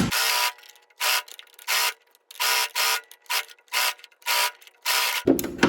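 A sewing machine backstitches a sash belt, running in short buzzing bursts of rapid stitching separated by brief silences, about eight runs, close and clear, ending with a rustle of fabric.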